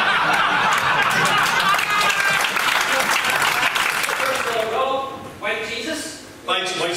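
Clapping from a comedy club audience rolls on for several seconds, then fades as a voice takes over and talks through the tail end.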